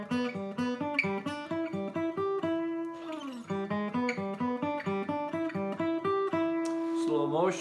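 A bluegrass lick in E played on a guitar, a quick steady run of plucked notes with slides and a few pauses, close and clear, alone without talk.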